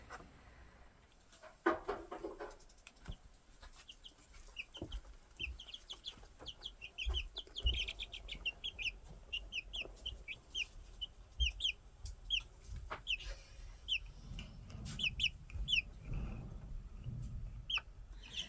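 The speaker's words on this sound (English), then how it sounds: "here are our 6 baby chicks" Six baby chicks peep in quick, high chirps, scattered at first then chirping busily together, with soft rustling and light thumps nearby.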